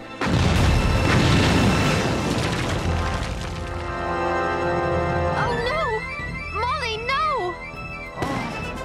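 Cannon and musket fire booming in a Revolutionary War battle at a fort, with heavy dense blasts at the start fading into a rumbling din while voices shout and speak over it.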